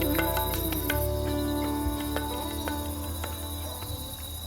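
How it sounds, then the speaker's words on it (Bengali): Crickets chirp steadily in a quiet forest in the Dooars at dusk, a continuous high insect trill with a low hum beneath and a few faint clicks, heard alone without talk. "জঙ্গলের বুক চিরে আসা হালকা হাওয়া আর ঝিঝি পোকার ডাক ছাড়া আর কোনো শব্দ নেই চারপাশে।"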